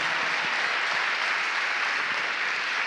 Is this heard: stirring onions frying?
no